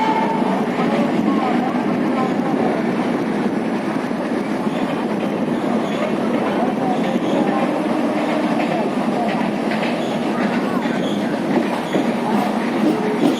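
A suburban train from Chennai Central to the Pattabiram military siding runs on rails with a loud, continuous rumble and rattling wheel noise heard from on board. A voice talks over it.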